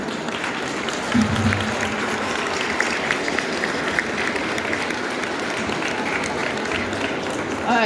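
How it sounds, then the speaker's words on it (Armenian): An audience at a book presentation applauds continuously, a full, even patter of many hands from start to finish with a low murmur of voices underneath. "Շատ եմ խնդրում, եկեք բոլորս ծափահարենք Աշոտ Ալիխանյանին"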